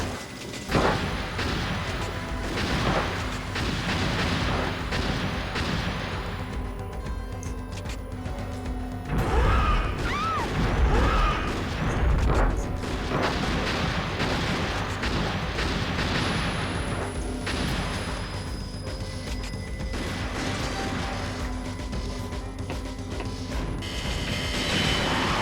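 Gunfire in the Vampire Night arcade shooter as statues are shot, a sustained run of booming, crashing shots layered over continuous game music and effects.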